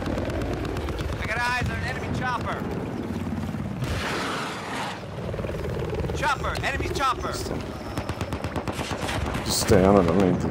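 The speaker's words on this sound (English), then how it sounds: "I spotted an enemy chopper." An enemy helicopter drones over water in a Battlefield-style multiplayer battle, with bursts of machine-gun fire and gunshots crackling loudly around it while players talk over the action.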